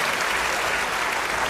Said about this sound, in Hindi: बजा दीजिए तालियां